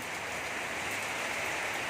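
Steady, hissing rain pours without a break amid gusty wind, a dense wash of noise with no voices.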